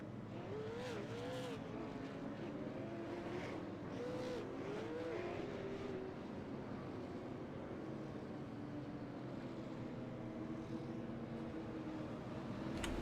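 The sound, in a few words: street stock race cars racing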